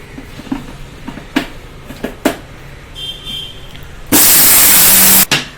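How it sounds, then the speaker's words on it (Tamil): A mixer grinder jar whirs loudly for about a second as it powders ingredients, after quiet kitchen clatter and a few knocks of the lid being closed. "ஜாரை மூடி இப்ப பொடிச்சிருவோம்ப்பா."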